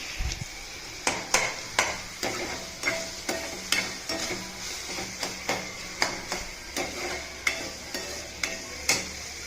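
Vegetables with carrot frying in a pan with cumin, a steady close sizzle broken by regular sharp scrapes and clinks of a stirring spoon against the pan roughly every half second, with no talking.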